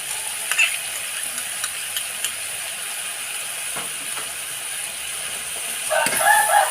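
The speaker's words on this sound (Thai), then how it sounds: "ผัดให้เข้ากันค่ะ" Mixed vegetables stir-fried in a pan with fish sauce, sugar and oyster sauce give a low, steady sizzle with light scraping and clicking stirs, growing busier and louder in the last second.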